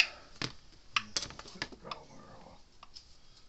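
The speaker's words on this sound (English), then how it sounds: "it's working and clicking again" Speedrite 980 electric fence charger, under repair, clicking in a series of sharp, irregular ticks, fairly close and quiet, over a low background hiss.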